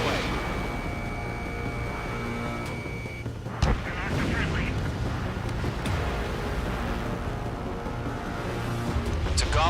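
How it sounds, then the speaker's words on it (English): Missile launch and heavy explosions during an Ace Combat 7 air battle, a dense sustained roar with a sharp blast partway through and rumbling booms under radio chatter. "Missile away."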